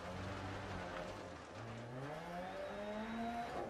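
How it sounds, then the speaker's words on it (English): A Ford Escort RS Cosworth rally car in the Dirt Rally video game on a Wales stage, its engine note sliding down and then climbing again as revs fall and recover, a steady and fairly faint drone with no voices. "Revs totally dropped."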